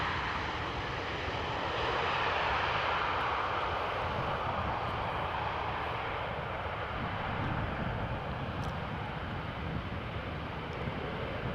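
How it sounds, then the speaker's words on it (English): EasyJet Airbus A320 arriving at Amsterdam Schiphol, its jet engines a broad steady roar throughout as it lands and rolls along the runway, loud and sustained with no voices. "Easyjet A320 arriving from Manchester"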